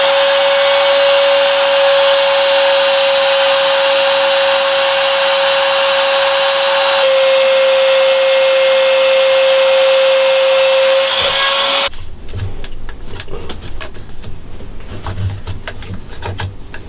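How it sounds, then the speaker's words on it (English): A router cuts the truss rod and carbon reinforcing rod channels into a wooden guitar neck, a loud steady high-pitched whine for about twelve seconds before it cuts off and leaves rougher bench noise. "Route the truss rod and the carbon reinforcing rods."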